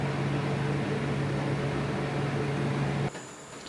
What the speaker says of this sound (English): they got dehumidifiers sucking all the moisture out